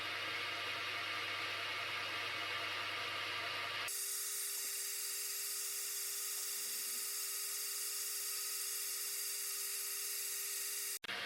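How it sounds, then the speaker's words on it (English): A steady mechanical whine of machine drilling into a metal block runs throughout, shifting abruptly to a different, thinner hiss partway through as center drilling gives way to a split point drill, with no talking. "The hole is first center drilled and then drilled with a split point drill"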